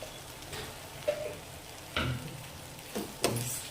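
Drumstick leaves fry in a pan with coconut powder, giving a soft, steady sizzle broken by a few louder scraping stirs of the spatula, quiet and close with no talking.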